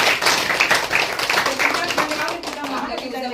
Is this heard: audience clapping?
yes